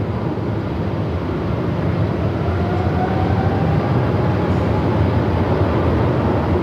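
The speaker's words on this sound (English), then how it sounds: "See if we can bring some of that GE90 noise in." Cathay aircraft with GE90 engines on the takeoff roll at Melbourne Airport in strong gusty wind, a loud, steady broadband roar with a faint rising whine, heard from a distance.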